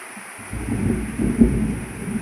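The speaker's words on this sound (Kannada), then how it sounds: "ಜೋರು ಮಳೆ ಬರ್ತಾ ಉಂಟಿದೆ ಬಿಡಾದೆ ಮಳೆ ಮತ್ತೆ ಮಿಂಚು" Steady heavy monsoon rain with lightning and low rumbling swells, a deep thunder-like roll building midway; continuous and fairly loud, no voices.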